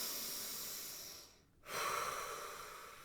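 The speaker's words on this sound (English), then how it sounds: "take a few breaths" One person breathes slowly and audibly, a long airy exhale fading out, a short pause, then a deep inhale rising again, close and soft with no talking.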